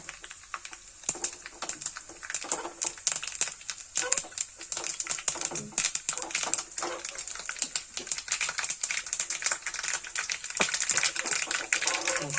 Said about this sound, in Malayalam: കടുക് പൊട്ടിക്കാലോ?